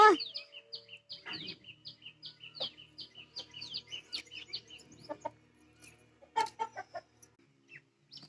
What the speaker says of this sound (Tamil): இது நாம நார்மலாக வளர்க்குற நாட்டுக்கோழிங்க.